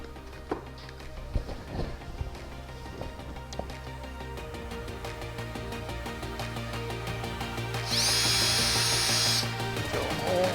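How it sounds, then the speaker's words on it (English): A power drill boring a hole through interior trim in an ICF wall, with a steady whirring run building toward the end after a few light knocks and handling sounds; no talking. "Drill a hole."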